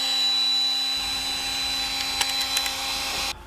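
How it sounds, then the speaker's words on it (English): A Ryobi ONE+ compact brushed router whines steadily at high speed while cutting, loud and close, with a few brief knocks before the motor cuts off near the end. "This is a brushed motor, and I'm impressed by the cutting power of this compact."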